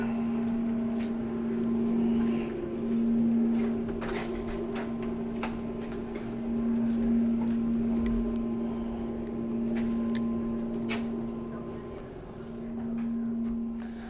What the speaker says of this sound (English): Make sure I have my keys.